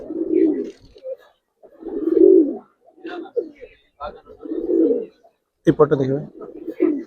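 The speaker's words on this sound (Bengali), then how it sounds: "আপনার জাবরা বাগা কবুতর ওই যে ডাকতেছে" Jabra Baga pigeon cooing in a loft, several low rolling coos in bursts with brief gaps, close by, someone speaking over and between them.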